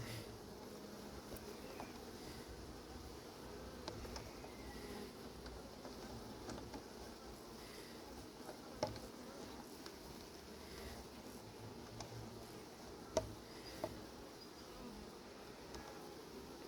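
A wasp or hornet buzzes steadily at an apiary, a faint continuous insect drone with a few small clicks, without speech.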